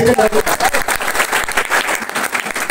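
Loud, dense applause from a crowd fills the whole moment, rapid overlapping claps at close range.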